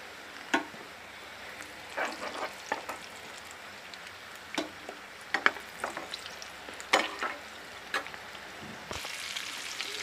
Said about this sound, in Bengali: মাছ কচু ভাজা হয়ে গেছে,